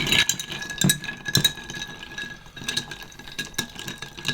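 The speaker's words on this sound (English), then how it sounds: "So time now to get some ice and a nice couple of very cold coupes and begin stirring stuff down" Ice rattling and clinking in a glass as a coffee cocktail is stirred down with a bar spoon, steady close tinkling with sharper clinks at irregular intervals.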